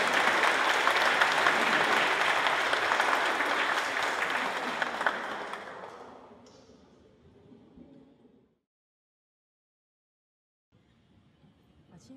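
Audience applause welcoming the Tainan YMCA choir onto the stage at Tunghai University's Luce Chapel for a memorial concert, loud and sustained clapping from a large crowd that fades out over several seconds, then near silence with faint room noise.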